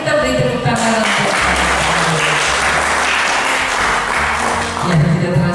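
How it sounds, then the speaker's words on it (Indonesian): Sustained audience applause at an Indonesian treasury talk show event, loud dense clapping filling the room for several seconds without a break. "Mari kita beri tepuk tangan untuk"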